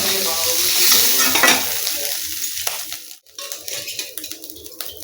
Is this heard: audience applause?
no